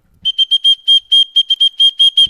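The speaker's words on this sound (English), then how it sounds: "she gave us some whistles, so we're rocking the whistles." Handheld whistle blown in a quick series of about a dozen short, shrill, tonal blasts, loud and close, with no talking.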